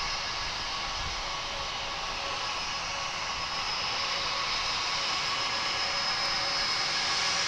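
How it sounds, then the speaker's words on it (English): American Flight 2720, an Airbus A321 jet, at Dallas Fort Worth airport; a steady moderate jet engine rush that swells slightly as it nears, with no voices. "Here comes American Flight 2720."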